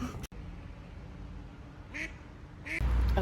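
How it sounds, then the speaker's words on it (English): Ducks quacking outdoors, two short distinct quacks about a second apart after a sharp click, over steady background noise, with a louder rumble at the end. "the ducks can be actually really obnoxious"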